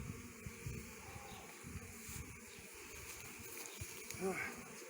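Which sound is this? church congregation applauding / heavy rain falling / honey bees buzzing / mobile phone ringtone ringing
honey bees buzzing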